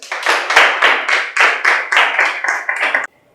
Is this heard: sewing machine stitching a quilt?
no